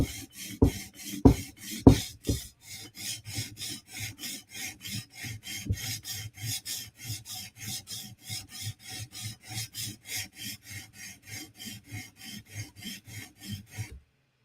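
Rhythmic rasping strokes of a PM2 tanto knife blade being sharpened, steady back-and-forth passes repeating evenly with a few louder strokes early on, close and alone with no talking.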